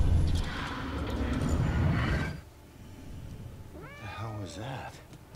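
Cat meowing in the video game Murdered: Soul Suspect: a few drawn-out, rising and falling meows close by near the end, after a stretch of loud game sound.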